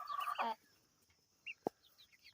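A hen clucks close by in a short burst, followed by a few quieter, scattered clucks and chirps.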